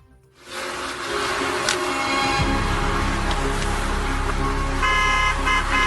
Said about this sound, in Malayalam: ദുബായിൽ അനാവശ്യമായി ഹോണടിക്കുന്ന ഡ്രൈവർമാർ ഇനി സൂക്ഷിക്കണം